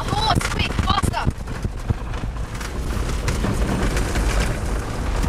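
A running horse's hooves clip-clop in quick, sharp beats early on, then fade into a steady rumble with voices in the background.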